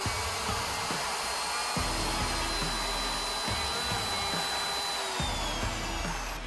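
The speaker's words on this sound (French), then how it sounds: "On va maintenant essayer la troisième fraise et cette fois-ci on va l'essayer perpendiculairement au fil du bois" Router fitted with a Freud edging bit cutting across the grain of wood: a steady high-pitched motor whine with rhythmic lower pulses as the bit passes through the board, close and continuous, no talking.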